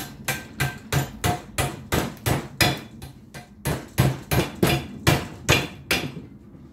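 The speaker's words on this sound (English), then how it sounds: "Hammer it around like that." Rapid, steady hammering on metal while fitting Land Rover Series pedals, about twenty close blows in a quick regular rhythm with brief pauses, no voices.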